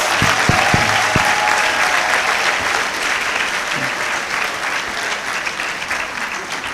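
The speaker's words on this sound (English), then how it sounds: "Let us give her another round of applause." A large audience claps continuously at a graduation congregation ceremony, loud and sustained, with a few heavier, isolated claps standing out at the start.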